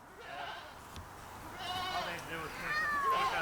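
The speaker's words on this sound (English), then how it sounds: "The goats saw me in their turf, and I could hear them screaming" Goats on a homestead bleating loudly in October, several overlapping wavering cries close by, with a person speaking briefly among them.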